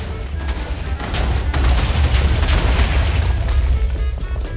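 A huge explosion in Minecraft from a nuke-style blast: a deep booming roar with repeated crackling bursts that swell and sustain for several seconds, loud with no voices over it.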